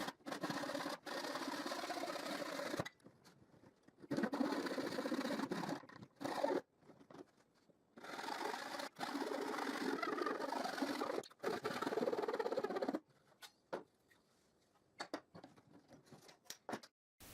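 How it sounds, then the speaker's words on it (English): Small wooden triangles for homemade bar clamps are sanded by hand, with several sustained scratchy rubbing passes a few seconds each, broken by short quiet gaps and light handling knocks, close and fairly soft. "and I sand them"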